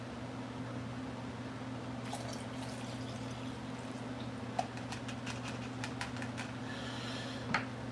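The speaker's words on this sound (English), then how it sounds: "filling with simple green now" Simple Green cleaner is poured into a measuring cup, making a faint, quiet trickle with scattered small splashes and drips over a steady low electrical hum.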